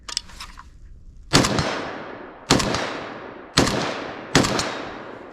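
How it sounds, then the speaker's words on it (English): Four sharp RAK-47 rifle gunshots fired outdoors at a 50-yard range, loud and close, each crack followed by a long ringing decay, spaced roughly a second apart. "Missed that third shot, but still not doing too bad."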